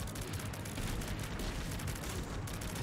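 Repeated explosions and blasts from The Binding of Isaac, a dense run of booms filling the whole span at steady loudness with no talk over them.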